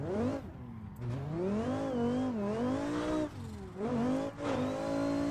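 A Dodge Viper in a racing simulator game, driven hard on tight mountain roads, revs up and down repeatedly; the engine note climbs and falls in several sweeping pulls with brief dips between gear changes, clear and prominent.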